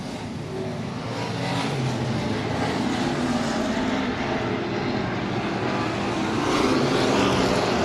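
Modified race cars of the Touring Outlaw Modified Series roar around Heart O' Texas Speedway on the last lap, a loud sustained engine drone that swells slightly toward the end, with no voices.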